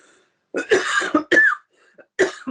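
Several short, close coughs and throat-clearing sounds come in separate bursts with brief quiet gaps between them.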